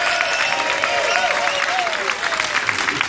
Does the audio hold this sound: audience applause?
yes